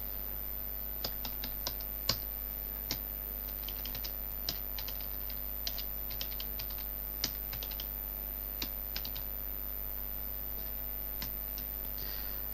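Keys click on a computer keyboard at an irregular typing rhythm, quiet and close, set over a constant low electrical hum while a meter number is entered into a spreadsheet.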